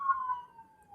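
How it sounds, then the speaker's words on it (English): An ambulance siren wails alone for a moment as it passes: a single loud, steady tone that slowly drops in pitch and fades slightly. "I was letting the ambulance go by."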